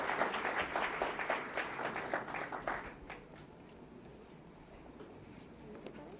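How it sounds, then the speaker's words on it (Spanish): A conference audience gives a fairly quiet round of applause for the father rector, a brief burst of clapping that fades away after about three seconds into a low room murmur. "Digamos, por favor, con un fuerte aplauso a nuestro padre rector."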